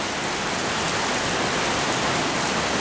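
Heavy rain pours down steadily in a storm front on a coast, a dense, loud, unbroken hiss of water that stays constant throughout, with no voices.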